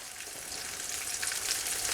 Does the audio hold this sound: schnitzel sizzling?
yes